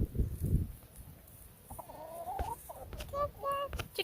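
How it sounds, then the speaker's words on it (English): Chickens on a small family farm cluck in short, repeated calls, fairly close, with a few louder squawks near the end. A child and adults make brief noises now and then in the background. "Chicken!"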